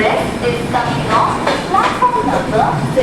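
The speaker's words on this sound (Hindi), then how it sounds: "इटारसी से ये ट्रेन अब निकल रही है।" A train pulls out of Itarsi railway station in India, a continuous rumble of rolling wagons with faint metallic squeals and clatter, loud and close throughout.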